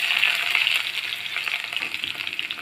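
Chopped onions and potato strips fry in mustard oil in a wok after a tempering of nigella seeds and dried chilies, giving a continuous close sizzle with light stirring.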